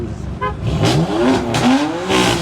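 Loud cars revving their engines hard, several rising and falling pitch sweeps stacked close together, blaring and near with harsh bursts between revs.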